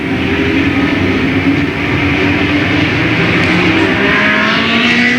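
Late model race cars roar around a speedway oval, side by side out of turn two, in a loud, continuous engine drone with shifting whine and no talk.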